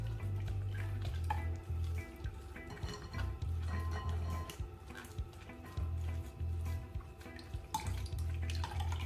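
Carrot, ginger and lemon juice strained by hand trickles and drips into a container in repeated wet splashes and pours, fairly quiet over a low steady hum.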